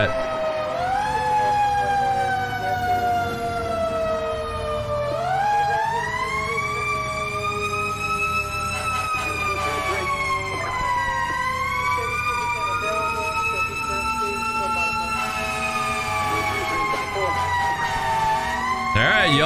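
Loud, close wail of an FDNY fire truck siren rising and falling in steady sweeping cycles for the whole stretch, layered over engine rumble during an emergency response in Brooklyn.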